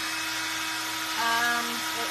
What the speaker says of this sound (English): Excuse the sound of drilling.